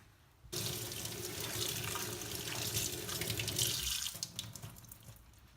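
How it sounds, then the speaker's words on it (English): A makeup brush rinsed under running tap water at a sink, the stream starting abruptly and splashing steadily for several seconds before easing off. "try to clean it with your fingers with the tap water on"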